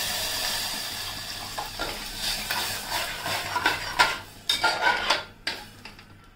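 Rice fries and sizzles in a hot pan as water goes in, with a steady frying hiss punctuated by stirring scrapes and spoon clinks against the pan.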